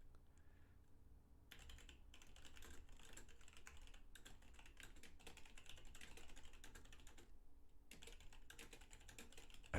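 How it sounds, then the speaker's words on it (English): Quick bursts of computer keyboard typing clatter close by, with rapid key clicks broken by a few short pauses. "I apologize if you hear my clicking."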